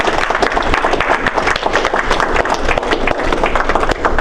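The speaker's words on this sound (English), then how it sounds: "let's clap" An audience at an Agile Scrum training session bursts into sustained applause, dense overlapping claps filling the room loudly and evenly from start to finish.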